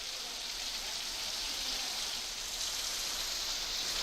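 Continuous monsoon rain falls in Maharashtra as a steady, unbroken hiss, even in loudness throughout, with no voices.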